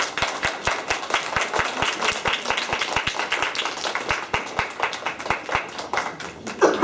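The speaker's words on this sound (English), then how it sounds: "Let's give our actors and actresses a round of applause" Audience clapping for kindergarten actors after a Thanksgiving class play, a steady crowd of hands with a few loud nearby claps standing out in a regular beat, sustained throughout.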